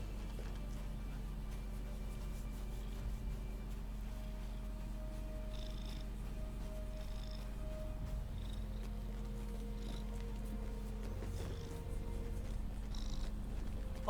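A cat purrs softly and continuously, a low steady rumble held close for the whole stretch, with faint background noise and no talking.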